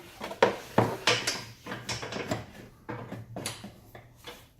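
Metal clinks and short clanks from a wrench tightening bolts on the lower legs of a back-half roll cage being installed, coming as irregular close knocks and scrapes with no talking.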